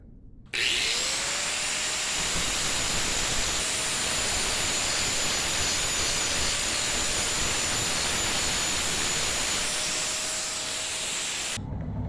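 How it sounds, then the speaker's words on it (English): Angle grinder grinds rough weld beads flat on a snapped CT200U-EX scooter frame, a loud continuous whining roar starting abruptly, with a steady high tone throughout and stopping sharply at the end. "we'll take the grinder, we'll grind everything flat"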